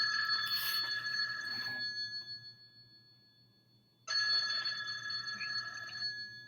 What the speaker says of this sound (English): I've got a phone ringing